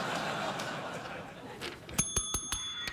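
A bell dings several times in a short run, crisp and close, after a stretch of murmured talk and light laughter from a talk-show studio.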